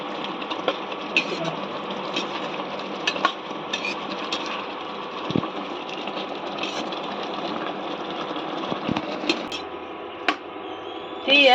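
Potato and soya mealmaker chunks fry with masala in a pan while being stirred, giving a steady close-up sizzle broken by small scraping clicks from the spoon.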